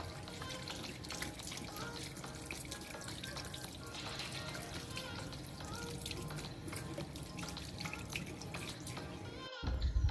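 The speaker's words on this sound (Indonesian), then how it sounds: "saya akan cuci tangan dulu Pak ya." Water runs steadily from a tap during handwashing before a thyroid examination in a clinical setting. It makes a soft, continuous splashing hiss at low level, then ends with a brief louder clatter.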